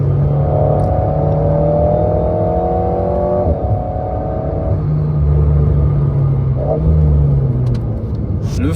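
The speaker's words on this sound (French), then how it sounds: "Vous entendez la petite pétarade là ?" Alpine A110S sports car on the move, its engine droning steadily with shifting pitch as it accelerates and changes gear, a brief crackle from the exhaust breaking through near the middle, heard close from inside.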